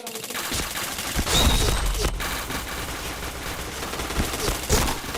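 Gunfire in the shooter game Point Blank, with repeated sharp bursts and cracks of automatic fire, loud and close, running through the whole stretch in uneven volleys.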